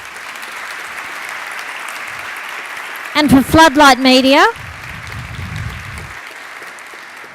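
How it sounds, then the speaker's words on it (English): An audience applauds the competing agencies at the Admental 2018 event: a steady wash of clapping runs throughout, while a voice speaks briefly over it near the middle. "So I think a round of applause"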